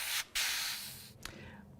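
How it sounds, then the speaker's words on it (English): Short hissing bursts of violet spray paint on a fantasy-art painting: two close, loud sprays separated by a brief pause, then a fading hiss. "I start spraying a little bit of the violet"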